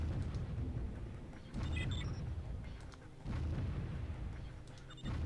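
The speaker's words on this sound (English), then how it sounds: "Laser satellite firing." A laser satellite firing in the strategy game Warzone, a series of deep booming blasts in waves, with a low rumbling roar and some brief electronic tones over it, no talk.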